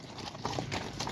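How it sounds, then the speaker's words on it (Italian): Horse hooves clip-clopping in woodland, a few soft irregular steps, faint and fairly distant. "Oh no, è un'invasione di cavalli."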